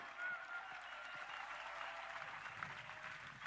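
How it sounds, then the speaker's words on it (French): A church congregation at a worship service in Abidjan claps steadily for Jesus, a dense, even wash of applause that sounds somewhat distant and soft throughout. "Acclamons très fort. Let us clap loudly."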